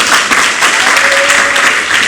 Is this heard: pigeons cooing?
no